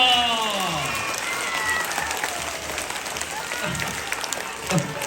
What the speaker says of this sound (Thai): ขอเสียงปรบมือให้คุณปอ